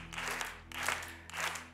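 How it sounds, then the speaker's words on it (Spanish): An audience claps along in steady rhythmic bursts, soft and somewhat distant, with no talking over it. "Venga, unas palmas."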